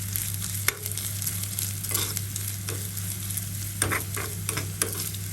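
Onion and grated coconut fry gently in ghee, a soft, continuous sizzle under a low steady hum, punctuated by several crisp scrapes and taps of a spoon stirring the pan, close and wordless.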